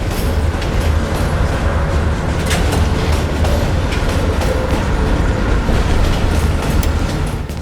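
A moving train in the Call of Duty: Black Ops Cold War campaign rumbles steadily and loudly throughout, with a constant low roar and faint rattling from the carriage and no voices.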